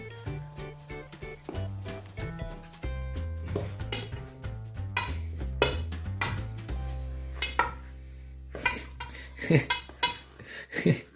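Metal spoon scraping and clinking against a pot to loosen stuck festive biscuit mixture, an irregular run of nearby scrapes and knocks over a low tonal backdrop.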